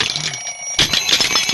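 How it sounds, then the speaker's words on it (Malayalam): A loud, shrill alarm clock starts ringing partway through after a quieter stretch, sounding in rapid, insistent bursts close by. "മണി 10 അലാറടിച്ച് എഴുന്നേക്ക്"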